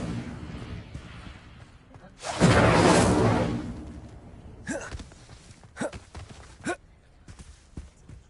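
The Incendio fire spell in Hogwarts Legacy erupts as a loud whooshing burst of flame lasting about two seconds, followed by several short sharp crackles and a few faint footsteps.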